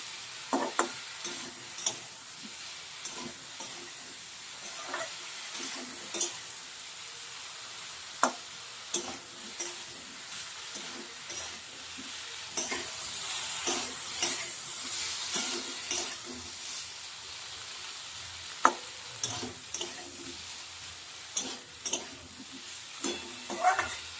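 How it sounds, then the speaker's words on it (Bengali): Potato and eggplant pieces fry in a pan with turmeric and salt, giving a soft, steady sizzle broken by regular clacks and scrapes of stirring, fairly quiet and alone. "আলু বেগুনটা ভেজে একটু লাল লাল করে নিলাম"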